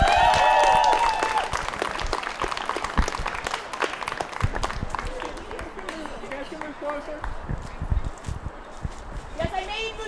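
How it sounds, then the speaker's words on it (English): A crowd at an outdoor political potluck picnic bursts into sustained clapping for several seconds, a dense patter that holds steady, with a few cheers and voices over it. "Please give a big round of applause for Delegate Jennifer Carroll Foy."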